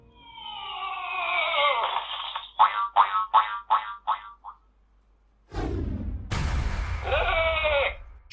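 Skylanders Trap Team portal emits a game capture sound effect: a warbling sheep-like bleat stuttering in quick repeated bursts, then after a pause a louder whooshing and twangy electronic burst, clear and close with no talk.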